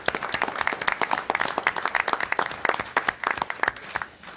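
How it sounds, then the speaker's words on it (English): Audience applause for Dr. Sherry at a town council meeting, a steady round of fairly close clapping from a modest crowd, sharp individual claps clearly audible throughout with no talking over it. "But let's give Dr. Sherry a round of applause."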